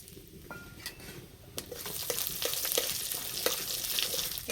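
Bengali five-spice seeds and a bay leaf sizzling in hot oil. The sizzle builds after a quiet start into a dense crackling hiss, with a few sharp pops and faint utensil clinks, close and uninterrupted by speech.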